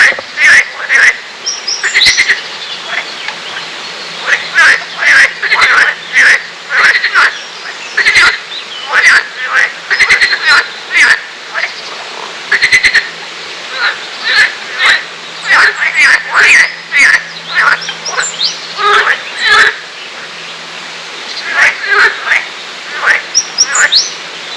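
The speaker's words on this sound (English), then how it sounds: "I'm not sure whether they're toads or frogs." Toads or frogs croak in a loud, rapid, pulsing chorus beside a rural trail in the Ardèche countryside near Sampzon, France, the rhythmic calls repeating in clustered bursts close by, with a few bird chirps mixed in.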